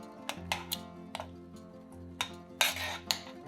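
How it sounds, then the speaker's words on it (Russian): A metal spoon crushing softened cranberries in a saucepan of sugar and water on the stove, irregular scraping clinks and knocks against the pan, close up over a soft background hum. "раздавливаем их ложкой."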